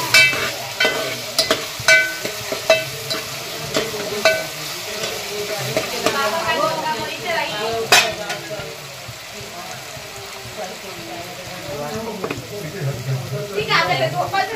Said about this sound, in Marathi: तेलात कांदा टोमॅटो चांगलं परततोय